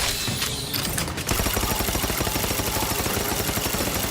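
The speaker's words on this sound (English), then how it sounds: "shall pepper you with bullets." Rapid, loud gunfire rattles in a dense continuous burst during combat against a huge creature in the video game The Outer Worlds, with a brief mechanical clatter just before the shooting starts.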